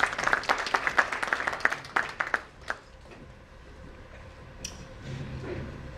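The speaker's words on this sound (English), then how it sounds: "A huge round of applause for him" Audience at a cardiology forum applauding as the chairman of Fortis Escorts Heart Institute comes to speak; crisp clapping close by for about three seconds, then thinning into scattered claps and quiet room noise.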